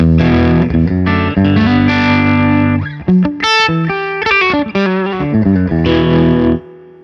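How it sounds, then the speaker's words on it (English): Electric guitar through a PRS Sonzera 50 tube combo amp, driven hard into breakup with reverb: loud sustained distorted chords, then quick choppy stabs and riffs, ending on a ringing chord that cuts off. "So you can really hear the way that that's breaking up"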